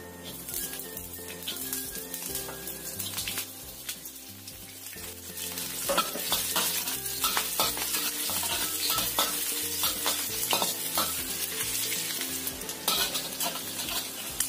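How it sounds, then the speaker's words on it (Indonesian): Shallots sizzle and crackle in hot oil, a continuous frying hiss that grows louder midway, with occasional stirring scrapes. "Goreng dulu bawang merahnya."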